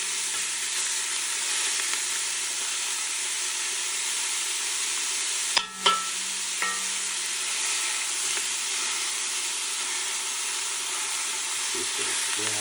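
Steady, continuous sizzling of meat browning in a pan for lasagna, with a brief clatter of utensil contact midway; no talking.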